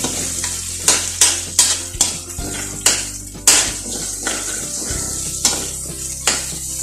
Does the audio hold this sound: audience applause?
no